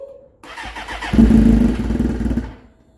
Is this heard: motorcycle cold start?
yes